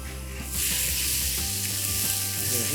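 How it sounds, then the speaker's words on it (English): Oil on a hot Evo griddle sizzles loudly, jumping up after a brief quieter start into a dense, continuous crackle with scattered pops, close and alone without voices. "Hear that popping? You want this nice and hot because you want to get a good sear on the steak."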